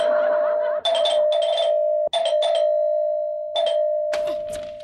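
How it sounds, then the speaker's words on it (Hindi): A doorbell rings insistently and loud, sounding in several repeated chimes with brief gaps, close by and without talk over it. "इतनी जोर से घंटी क्यों बजा रहे हो?"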